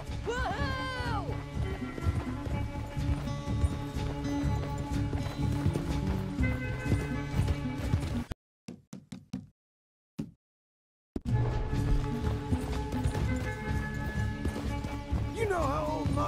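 Horse galloping in Red Dead Redemption 2, with rapid rhythmic hoofbeats amid music and game sound, a brief dropout in the middle, then galloping resumes; a man calls out and a whinny is heard near the end.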